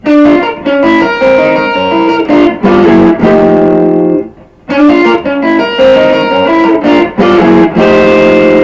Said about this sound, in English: Turnaround lick number 9 is a descending lick